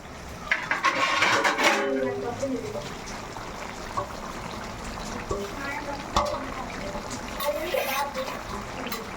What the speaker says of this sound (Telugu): చూడండి సరిపడ్డ మూత పెట్టేసుకుంటున్నాం